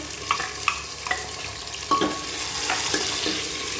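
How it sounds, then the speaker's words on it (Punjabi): Onions fry in a pan, a steady close sizzle punctuated by several light metallic taps and scrapes of a spoon stirring, with no one speaking. "ਪਿਆਜ਼ ਆਪਣੇ ਦੇਖੋ ਭੁੱਜ ਚੁੱਕੇ ਨੇ"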